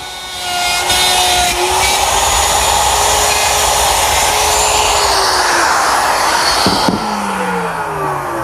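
A power tool cuts pins in half-inch stock, its loud, steady motor whine running close and unbroken for about eight seconds, with the pitch dipping briefly near the end.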